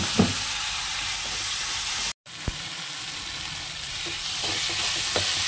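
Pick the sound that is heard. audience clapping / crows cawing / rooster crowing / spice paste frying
spice paste frying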